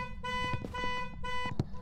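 A car horn honked repeatedly inside a Valorant match, with long steady blasts separated by short gaps and a couple of sharp knocks under them, at a fairly loud level and without talk.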